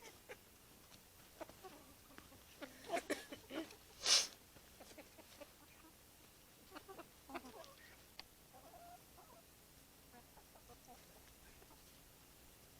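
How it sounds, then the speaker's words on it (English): Backyard chickens clucking intermittently, a cluster of louder squawks in the middle and softer scattered clucks before and after, against quiet background noise. "There you go, chickens."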